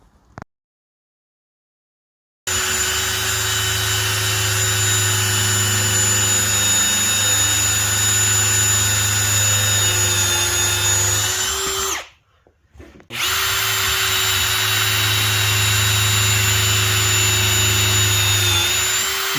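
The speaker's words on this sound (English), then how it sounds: "Here I am drilling out all the pilot holes." A power drill whines steadily and loudly close by while drilling pilot holes in clamped stair timber, running nearly nonstop with one brief pause midway before starting up again.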